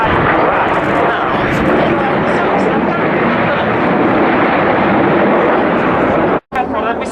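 Frecce Tricolori jets of the Italian Air Force roar overhead at an airshow, a loud, continuous broadband rush filling the whole stretch before cutting out abruptly near the end, then resuming briefly.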